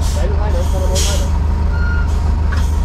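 A truck reverses with a steady, rapid beeping alarm over its deep idling engine, loud and near, while a person talks, during a roadside rescue of a vehicle lacking 4x4 traction.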